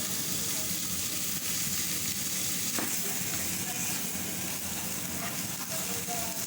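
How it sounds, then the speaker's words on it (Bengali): Chopped carrot, tomato and onion fry for fried rice, giving a dense, continuous sizzle that stays even throughout, with faint stirring sounds mixed in and no talk. "সবজিগুলিকে আমি আরও 1 মিনিট ভেজে নেব।"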